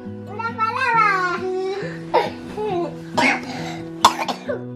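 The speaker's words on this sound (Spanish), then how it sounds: "Ahí las toses" A child coughs several times in short bursts at a first birthday party, mixed with babbling and other children's voices close by.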